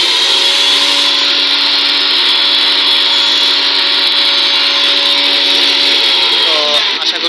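An electric blender grinds cumin seeds into powder with a loud, steady, high whirring motor drone that runs continuously, then winds down at the very end.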